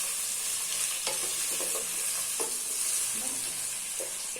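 Mutton sizzles and fries with chutney in a pot, a steady hiss of frying broken by the scrape and clatter of stirring, close and alone without talk.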